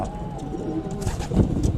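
Pigeons coo softly close by, a low throaty warble against a faint background hum.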